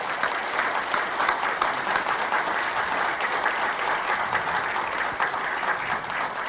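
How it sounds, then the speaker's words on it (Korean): Loud, continuous applause fills a symposium hall, many hands clapping at once in a thick, even roar that holds steady across the whole stretch. "박수 크게 해주십시오"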